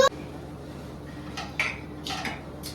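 A metal cooking pot clanks and scrapes a few times against a quiet room background, with brief clattering knocks.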